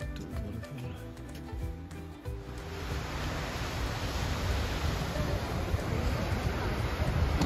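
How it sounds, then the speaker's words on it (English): Steady broadband rush of Öxarárfoss waterfall in Iceland, a constant roar that swells and fills the scene after a few seconds, with faint low rumbling and some wind noise mixed in. "Öxar ár foss the name of this waterfall?"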